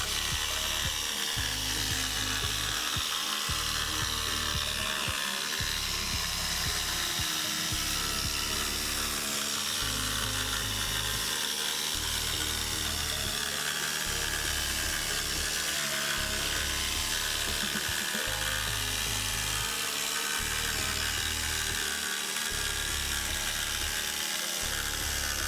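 A shower wall panel is cut for a self-built Crafter camper van with a loud, steady power-tool whine, its rhythmic low pulses repeating roughly every second and a half, close up with no talk.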